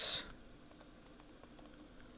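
Fingers type on a computer keyboard in a run of light, scattered key clicks after a brief louder burst, quiet and close with no talking.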